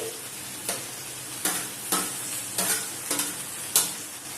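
Pork sizzles in a pan as tomatoes go in, with a constant fry under about half a dozen sharp scraping stirs of the spatula at irregular intervals, close up.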